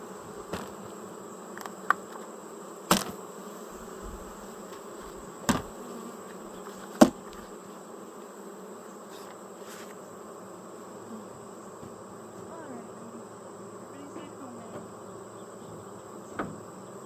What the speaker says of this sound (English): Some of these extra bees.